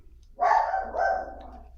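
A dog gives two drawn-out barks in quick succession, muffled and somewhat distant, over a low hum.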